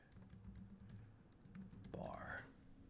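Clicky typing on a computer keyboard during a Google search, a steady run of light keystrokes close by with a low voice murmuring underneath.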